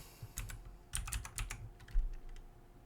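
Fingers type on a computer keyboard in a quick, irregular run of close clicks and key taps, steady for most of the stretch before thinning out, with no talking.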